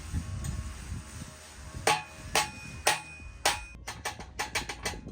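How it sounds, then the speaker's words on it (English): A hammer strikes a metal pallet jack part in a workshop. Sharp ringing blows land singly at first, then in a quicker run of lighter taps, all close and loud against a low background rumble. "It's like 8 million whacks of the hammer probably."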